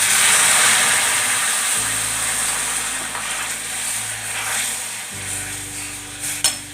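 Water hits hot caramel in a pan, setting off a loud, steady, broadband sizzle that hisses continuously and eases slightly over several seconds, with a brief clink near the end.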